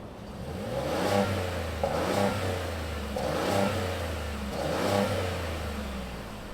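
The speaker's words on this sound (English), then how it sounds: "let's fire up this EcoBoost F-150 and see it roll" A 2023 Ford F-150 Lariat with the EcoBoost engine revs from a low rumble, rising and falling in three or four surges close by, with a steady engine drone underneath.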